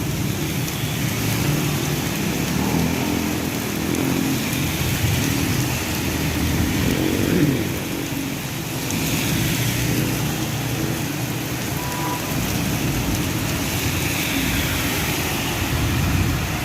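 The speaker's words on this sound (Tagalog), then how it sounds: "Biglang bumagsak yung ulan guys, yung sobrang itim yung kalangitan." Heavy monsoon rain pours down under a darkened sky during a habagat downpour, a steady, loud broadband roar with no pauses and a low rumble underneath.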